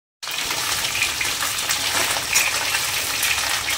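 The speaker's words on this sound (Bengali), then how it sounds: "এখানে মাছের মুড়োগুলো ভাজছি, কাতলা মাছের মুড়ো" Catla fish heads fry in hot oil, a loud, steady hiss and crackle that starts abruptly and continues close up without pause.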